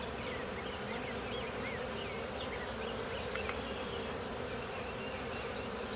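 Honeybees buzz in a dense, continuous drone around an open beehive during an inspection, close and steady with individual bees flying past the listener.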